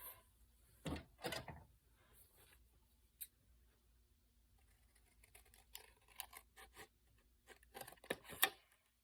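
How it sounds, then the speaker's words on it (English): Scissors cutting a piece of fabric for a sewing project: a few sharp, close snips in short bursts separated by quiet handling pauses, with a cluster of crisp cuts near the end. "so I'm gonna cut this side off"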